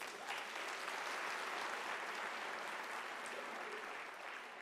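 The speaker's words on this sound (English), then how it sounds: "I think you deserve a round of applause." Sustained applause from a large graduation audience at a UNISA autumn ceremony in South Africa, a dense, steady wash of clapping filling the hall and fading slightly toward the end.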